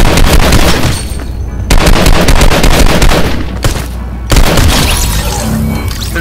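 Loud 12 gauge shotgun blasts in a video game, several heavy booming shots in close succession filling the clip with dense, sustained noise and no talking.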